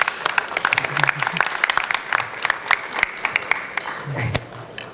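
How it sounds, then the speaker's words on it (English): Brisk applause from a conference audience greets a co-founder coming on stage, steady clapping of moderate loudness, with a voice speaking over it. "Give him a round of applause, please."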